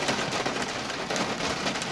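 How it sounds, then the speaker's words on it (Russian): Steady rain pouring down outdoors during a thunderstorm, a dense, even hiss of drops with no voices, close and moderately loud throughout. "И все-таки пошел дождь."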